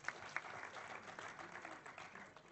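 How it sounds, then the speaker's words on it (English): A seminar audience applauds a gentleman with a round of clapping, fairly quiet and distant, including a couple of sharper individual claps near the start. "Give a huge round of applause for the gentleman here."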